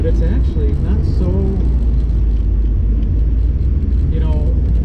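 Kenny Brown built 2005 Mustang GT CSR 69 engine rumbles steadily from inside the car while driving on the road, a loud continuous low drone with someone talking over it.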